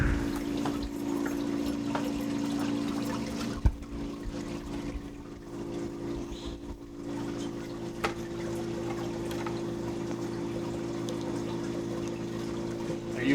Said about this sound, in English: The water flows across the surface, drops into the sump, and then just goes through a pump and is recirculated back up here